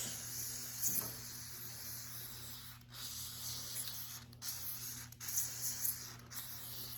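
Penetrating oil sprayed from an aerosol can onto a seized part of a 1987 Ford Bronco II, a steady soft hiss running for several seconds with a few short breaks, close and fairly quiet over a low background hum.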